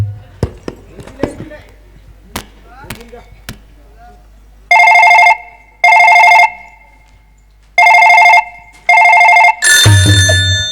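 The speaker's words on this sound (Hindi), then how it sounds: "हमारा थाना का मोबाइल फोन लस लस करता है" A mobile phone at a village police station rings in four loud electronic bursts with short gaps, after several sharp knocks and clicks, and a brief burst of other sound follows at the end.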